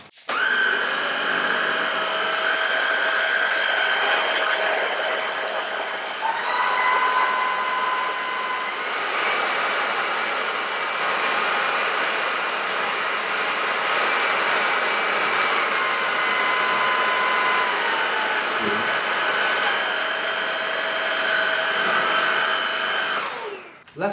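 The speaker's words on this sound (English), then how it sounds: "The original Redkey vac cleaner has 5 gears of suction power" A Redkey F10 vacuum cleaner runs steadily with a loud, even whine, stepping between suction levels a few times so the pitch shifts up and back down, with no voices over it.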